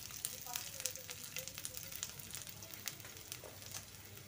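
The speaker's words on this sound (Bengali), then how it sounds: "এখন আমি আদা থেতো এবং রসুন থেতো দিয়ে দিচ্ছি।" Crushed ginger and garlic dropped into smoking-hot oil for an orange pickle, a faint, steady sizzle with scattered small crackles and pops.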